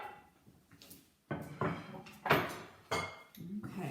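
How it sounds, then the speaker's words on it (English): A cutting board set aside on a kitchen counter, several close wooden knocks and clatters in quick succession after a quiet start. "Let me set my cutting board aside."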